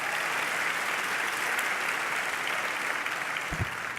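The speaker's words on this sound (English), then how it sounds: "Give yourselves a round of applause." Sustained applause from a large crowd at a national town hall, steady and loud throughout, with no voices standing out.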